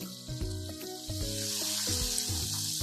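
Corn kernels sizzle and crackle in hot oil for a restaurant-style crispy corn snack. A steady, bright hiss runs throughout, with tonal music playing underneath.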